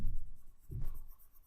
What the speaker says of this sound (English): So I'm going to go circular motion, side of the pencil